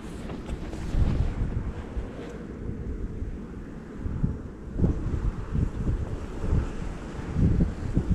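Wind gusting outdoors beside a stream at a freshwater crucian carp fishing spot, a steady low roar with stronger buffeting swells and mic rumble, loud and continuous with no voices.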